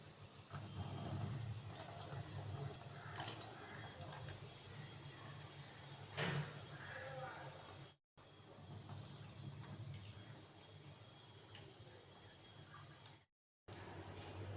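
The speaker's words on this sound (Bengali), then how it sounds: "এদিকে সেই চালটাকে ধুয়ে নিচ্ছি" Rice is washed by hand in water in a home kitchen, giving a faint, steady watery swishing and sloshing with two brief cut-outs and no speech.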